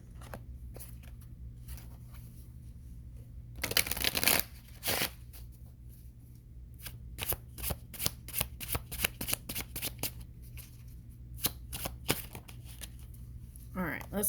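Tarot cards being shuffled by hand, with crisp riffling bursts and a run of quick flicking snaps spread over a low steady hum.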